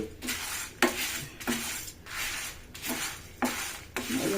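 Spice powder of drumstick leaves, peanuts, sesame and coconut being dry-roasted and stirred in a pan, rhythmic scraping strokes of a spoon against metal repeating about every half second, close and distinct.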